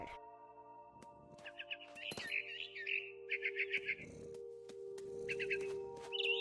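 A mother bird in the video game What Remains of Edith Finch chirps in several short, bright bursts over a steady low background hum and a few soft rustling sounds.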